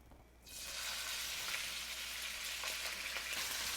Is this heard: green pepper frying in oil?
yes